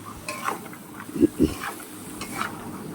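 Chicken ghugni stirred in a pan gives soft, quiet scraping with a couple of dull knocks from the spoon, over a faint low sizzle.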